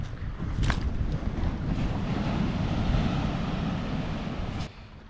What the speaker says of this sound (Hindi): पानी का ज़ोर चेक करें यार, सुभान अल्लाह, इतनी प्यारी आवाज़ पानी की।